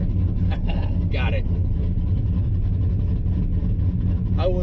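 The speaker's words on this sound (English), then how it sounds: "That sounds like 8 cylinders there." A V8 engine runs in a Chevy S10 pickup with a 5.3 swap, a steady low rumbling idle heard close, with a few brief voice fragments over it.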